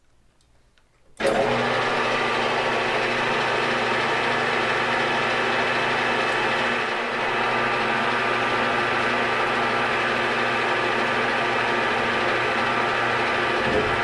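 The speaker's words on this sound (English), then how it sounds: "I'm going to show you how a parting tool works. We'll part this right off." A lathe runs steadily while a parting tool cuts a part off the stock: a sudden start followed by a constant loud machine whir and hum, close by, with a brief dip partway through.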